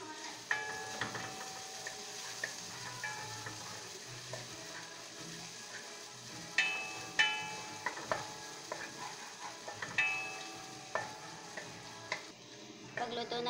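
Chopped onion sizzles gently in a pan with garlic as a soup is cooked, with a soft steady frying hiss, scattered stirring clicks and scrapes, and a few louder knocks against the pan.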